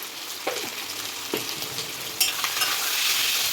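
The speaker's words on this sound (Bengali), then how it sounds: "ভালো করে নাড়িয়ে নিচ্ছি" Spicy goat liver frying in a pan with a steady sizzle, punctuated by scraping strokes as it's stirred; no talking.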